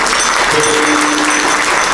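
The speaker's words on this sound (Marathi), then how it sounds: "आपल्या वादकांसाठी एकदा जोरदार टाळ्या झाल्या पाहिजे" Loud, steady applause from a crowd honouring the accompanying musicians at a devotional kirtan performance, dense clapping sustained throughout with no break.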